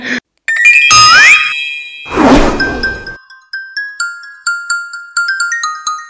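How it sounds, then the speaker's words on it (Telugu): A mobile phone rings with bright electronic chimes, first a few loud tones and a swooping sound, then a steady pattern of short repeating beeps that continues to the end, alone with no talk. "ఏంటమ్మా ఫోన్ వస్తే లిఫ్ట్ చేయకుండా అలానే చూస్తున్నావు?"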